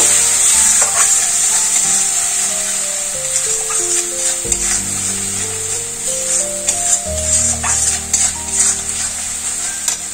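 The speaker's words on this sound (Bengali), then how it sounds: "আদা, কাঁচা লঙ্কা, রসুন দিয়ে দেব। অল্প করে একটু জল দেব। মশলাটা একটু কষিয়ে নেব।" Ground ginger, green chili and garlic paste with cumin sautéing in a pan for ghugni, a bright, steady sizzle with occasional stirring scrapes, while a low melodic tone shifts in steps underneath.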